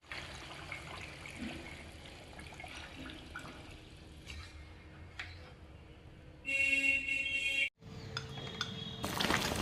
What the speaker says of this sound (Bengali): তো এখানে দিয়েছি অবশ্যই গরম জল